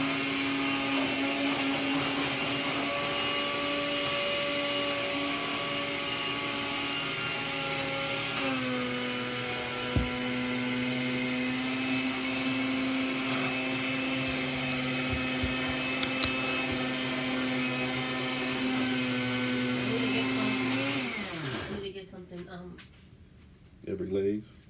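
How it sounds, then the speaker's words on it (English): A kitchen blender runs with a steady, loud motor whine during dinner preparation, holding its pitch for about twenty seconds before winding down and cutting off. "she had the blender going"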